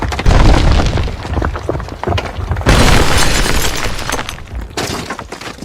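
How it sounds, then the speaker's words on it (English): Loud anime-style explosions of spirit energy in a dub fight scene: repeated booming, shattering blasts in quick succession, each followed by crackling debris, filling the whole span with no talk. "Unregistered spirit energy explosions at 4 locations within the force field."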